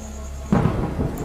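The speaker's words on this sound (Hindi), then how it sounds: "लेकिन तभी अचानक बारिश शुरू हो जाती है और रोहित बारिश में भीगने लगता है" Thunder with rain in a Hindi horror story, a sudden deep rumbling crack bursting out of a low steady hiss, loud and close, lasting about a second.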